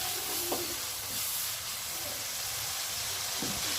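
Shrimp fry in a pan with a close, steady sizzle and hiss, broken by a few soft stirring scrapes.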